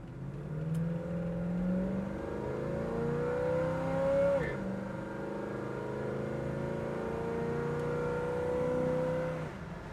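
A 1969 Chevrolet Nova with a 350 V8 accelerates steadily, engine pitch climbing and dropping at a clear gear shift around midway, then climbing again in a continuous loud, close drone.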